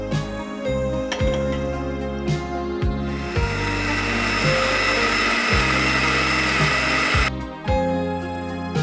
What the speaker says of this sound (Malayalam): നമുക്കത് തേങ്ങാപ്പാൽ മിക്സിയിൽ അടിച്ചെടുക്കാം